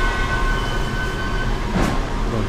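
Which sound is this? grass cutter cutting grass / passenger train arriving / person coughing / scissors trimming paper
passenger train arriving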